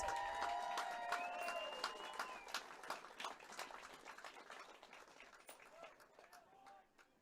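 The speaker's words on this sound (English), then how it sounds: "we ask you to give these seniors and their parents a round of applause" Scattered applause rises from a high school football crowd on senior night, the claps gradually thinning and fading while an announcer's voice carries over the start.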